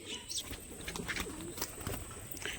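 Soft cooing from a Rajshahi Giribaz show pigeon comes through repeated low calls amid light chirps and rustling, fairly faint and with no talking.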